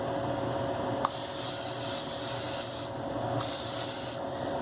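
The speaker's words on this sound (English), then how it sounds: "Always make sure to spray your pan with whatever spray you prefer." A steady hiss of cooking spray onto a baking pan continues for several seconds, with a couple of brief pauses and a small click near the start.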